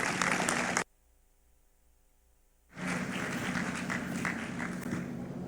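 Audience at a talk on preserving fine aroma cacao flavours claps, cuts out into near silence for about two seconds, then resumes as a full, steady round of applause welcoming the next speaker.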